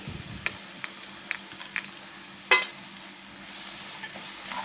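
Carrot halwa with nuts stirred in a pan, a low continuous sizzle punctuated by light taps and scrapes of the spoon, with one sharper clink midway, no talking.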